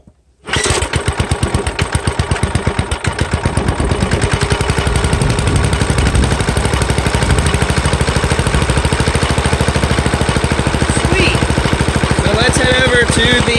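A track drive snow blower engine catches and starts after a brief silence, then settles into a loud, fast, steady putter close by.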